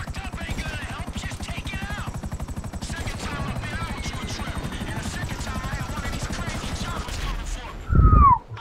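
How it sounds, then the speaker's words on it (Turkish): Helicopter in Grand Theft Auto 5, a steady rapid rotor chop running throughout amid game sounds, with bursts resembling gunfire and a louder thump near the end; chatter over the top. "Helikopter geldi lan."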